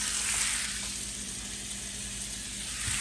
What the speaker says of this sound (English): While the meat is searing